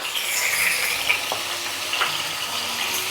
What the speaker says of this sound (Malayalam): എണ്ണ ഒന്ന് ചൂടായതിന് ശേഷം അത്യാവശ്യം വലിപ്പമുള്ള 3 തക്കാളിയാണ് എടുത്തിട്ടുള്ളത്.